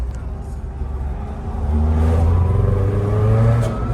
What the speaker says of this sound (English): The car kind of cuts ignition.